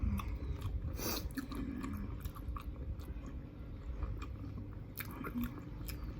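Crunchy bites and chewing of som tam papaya salad with fresh shrimp, close to the mic, with irregular crisp crunches and soft mastication over a low background hum.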